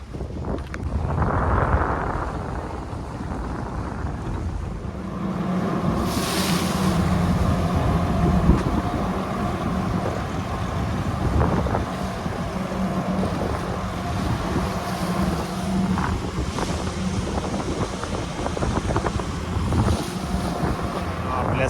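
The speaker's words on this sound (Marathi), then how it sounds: "समोर मोठी बोट ना आपली बोट किती छोटी असते बघा" A large ship at sea, heard from aboard a small fishing boat: a steady low engine rumble blended with wind buffeting and wave wash runs throughout, with faint voices now and then.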